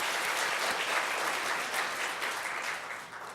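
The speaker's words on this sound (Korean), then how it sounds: "더함 찬양단에게 박수 한번 해주세요" A church congregation at a Sunday worship service applauds the praise team, a steady, dense wash of clapping from many hands that holds for several seconds and tapers slightly at the end.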